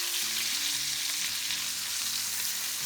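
Brined ribeye pork chops sear in a pan with a loud, dense, unbroken sizzle close by, while a low hum drones beneath it; no speech.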